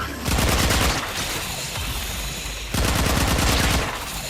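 Loud burst of rapid, crackling blasts in a Heart of Deimos game quest, two dense volleys of booming explosions with a short lull between, close and alone with no talk.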